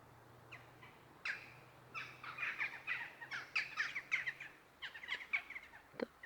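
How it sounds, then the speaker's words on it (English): Many small birds chirp and twitter in a German forest, with quick repeated calls in irregular bursts over a faint low hum, fairly distant and soft. "The birds."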